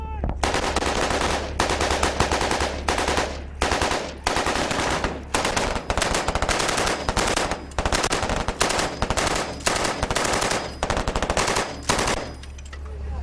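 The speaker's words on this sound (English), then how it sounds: "With the other jackals putting down covering fire, we make for the safety of the open desert, followed by machine guns and mortars" Sustained machine gun fire from covering troops in the Afghan desert, loud and close, with bursts rattling almost continuously for the whole stretch under a steady low rumble, broken by brief pauses between volleys.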